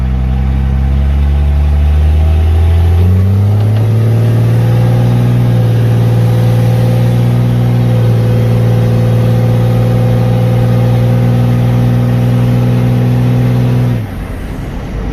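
A Jeep with a 12-valve Cummins diesel makes a boosted four-wheel-drive launch, a loud, close diesel roar climbing steadily in pitch through the gears for about fourteen seconds before it suddenly drops off.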